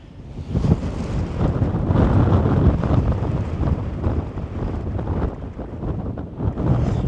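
Strong gusty wind buffets the microphone, a loud continuous roar with fluctuating intensity and no voices.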